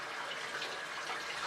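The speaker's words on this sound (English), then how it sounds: "so I just wet that with warm water" A tap runs warm water over a face brush, a steady broadband hiss of flowing water, close and constant for the whole short stretch with no voices.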